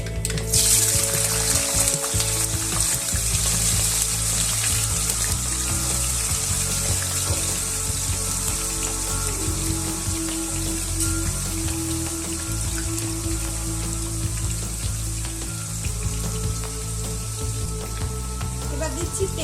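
Potatoes frying in a pan for a traditional Bengali shukto, a steady broad sizzle holding throughout with faint clinks and scraping, no talk over it.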